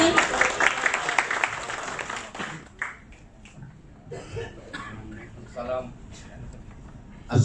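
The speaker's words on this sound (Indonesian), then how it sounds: "Boleh tepuk tangannya para hadirin." Audience clapping at a public discussion event in Jakarta, a brief burst of applause at the start that fades under someone speaking into a microphone, with scattered coughs.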